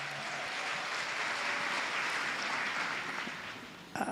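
Crowd applause for Bishop Charles Muturi of the Diocese of Mount Kenya South at a church gathering, a steady wash of clapping that carries throughout before thinning out at the end.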